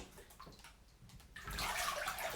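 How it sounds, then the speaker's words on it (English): Tap water runs over a toothbrush in a bathroom sink, quiet and faint at first, then swelling into a louder steady hiss of flowing water, with no voices. "A little water on the brush to clean the alcohol."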